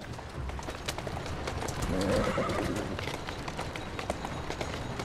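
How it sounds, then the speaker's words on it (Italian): A horse in the Assassin's Creed Syndicate video game whinnies and gallops, with quick clip-clop hoofbeats throughout and a clear neigh in the middle, all fairly loud and up front. "Cavallo, andiamo."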